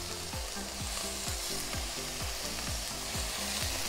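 Sesame chicken skewers sizzle steadily on a flat-top griddle, a loud continuous fry hiss with repeated low scraping strokes roughly twice a second, close and without talk.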